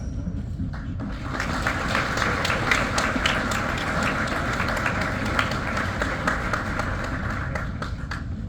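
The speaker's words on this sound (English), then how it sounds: "Congratulations to our newest NCOs. Please give a round of applause." A room full of people gives a sustained round of applause for newly promoted NCOs at a military unit ceremony, with dense, steady clapping that carries on for several seconds with no talk over it.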